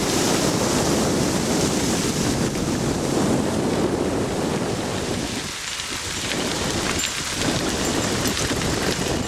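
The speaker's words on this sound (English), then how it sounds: "Here comes the waterfall." A waterfall roars as a steady, loud, broadband rush of falling water along a trail, constant throughout with only a brief slight dip.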